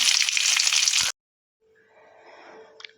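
Mustard seeds, urad dal and curry leaves sizzle loudly in hot oil for about a second, then after a short silence onions go in and fry with a softer, steady crackle and a few sharp pops.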